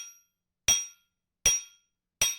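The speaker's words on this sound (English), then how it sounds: "Chisels rang out in the great cathedral of Santiago de Compostela as Grand Master Arnold of Troja inspected th" Metal chisels strike stone in a great cathedral, three sharp, ringing blows spaced evenly apart, each fading quickly into silence.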